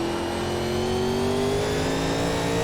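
A 1987 NASCAR Legends race car at Martinsville Speedway in iRacing, throttle slammed on corner exit so the engine climbs steadily in pitch, loud and close with no talk.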